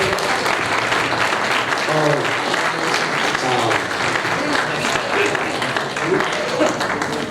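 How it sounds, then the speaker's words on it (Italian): Loud, sustained applause from a crowd, steady clapping filling the whole stretch with a few voices faintly mixed in. "un applauso al Silvano."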